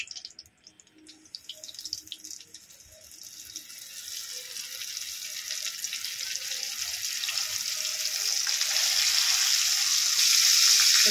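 Whole fish fried in hot oil, a close sizzling hiss that starts sparse and crackly and swells steadily louder into a dense, bright roar, with no talk.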